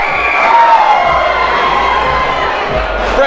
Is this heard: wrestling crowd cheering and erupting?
yes